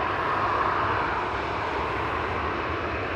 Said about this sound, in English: This is KLM flight 1363 to Budapest, 737.